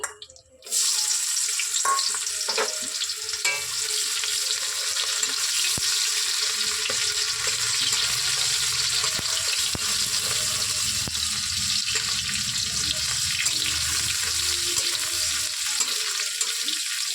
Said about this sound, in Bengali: আমি মাছ ভাজার তেলটাতেই পেঁয়াজটা ফোড়ন দিয়ে দেবো